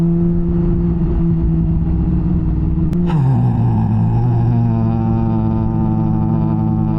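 A 2020 Yamaha R6 motorcycle drones steadily while riding, loud and close with wind noise, then shifts gear so its engine note drops and settles into a new steady tone.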